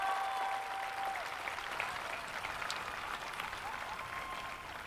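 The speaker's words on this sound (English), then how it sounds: "Let's give those three a nice round of applause" Sustained applause from a graduation commencement audience, a steady wash of clapping held at moderate distance for the whole stretch, with faint tonal sounds drifting over it early on.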